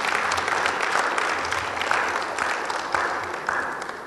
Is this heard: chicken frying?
no